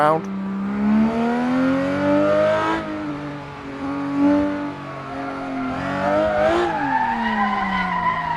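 A car floored on a track and spun round, engine revving hard while the tires skid and squeal in long, wavering sweeps, loud and close throughout.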